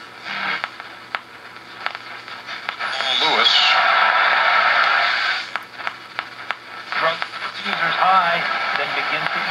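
A vintage RCA 96T7 radio receiver plays with a warbling broadcast, tuning whistles and static, and someone talks intermittently close by over it.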